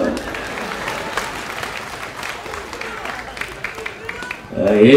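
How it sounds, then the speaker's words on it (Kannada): Crowd applause at a comedy show during a village temple fair, a steady round of clapping from a large audience with a voice speaking over it toward the end. "ಚಪ್ಪಾಳೆ ಕಟ್ಟಲ್ವಾ?"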